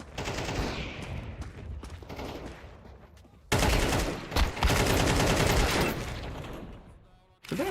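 Gunfire in Counter-Strike rattles in dense, sustained bursts. It cuts off briefly, then returns at full loudness as a continuous barrage, close and harsh, with no clear talking over it.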